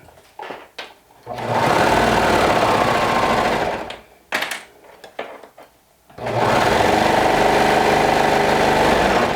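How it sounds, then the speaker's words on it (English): A home sewing machine stitches fabric in two long steady runs of loud whirring, separated by a short pause filled with a few quieter taps and handling noises. "I'm going to just straighten the fabric and keep stitching"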